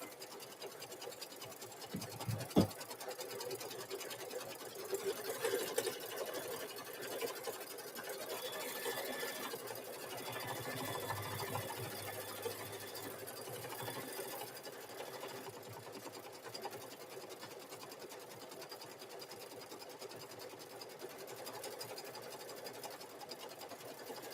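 A sewing machine runs steadily as it stitches free standing lace, a continuous close mechanical whir with a brief clunk near the start and no talking.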